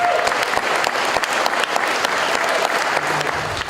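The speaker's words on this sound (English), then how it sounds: "Let's give them a round of applause before they even come up" An event crowd at a Napa–Solano Central Labor Council spring salute gives a round of applause for labor honorees, with dense, steady clapping that stays loud from start to finish.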